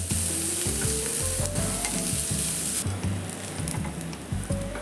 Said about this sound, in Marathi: मी गॅसवर एक पॅन ठेवला आहे त्यामध्ये थोडंसं तेल घालून घेतलं आहे आणि एक बारीक असं कांदा चिरून घेतलेला आहे त्याला छान असं खरपूस आपल्याला भाजून घ्यायचं आहे